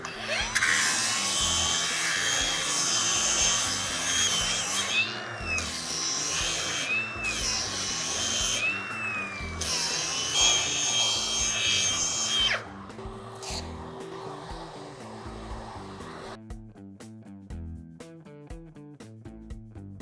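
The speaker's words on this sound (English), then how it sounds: "So we'll sand this down" Power sanding of a crack repair in a Corian solid surface countertop, a loud continuous whine for about twelve seconds that drops to a quieter, irregular mechanical hum and then lighter buzzing.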